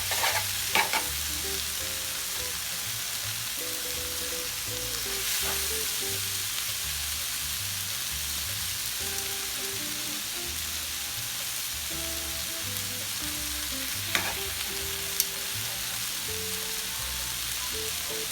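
Chicken and shrimp chow mein stir-fried in a pan, a soft steady sizzle under intermittent scraping and clinking of the utensil as the noodles are tossed, with no talking.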